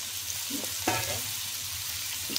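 Tomatoes and cashews frying in a kadhai give a steady, close sizzle, with a few soft scraping stirs partway through and no talk.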